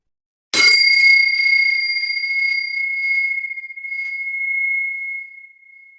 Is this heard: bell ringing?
yes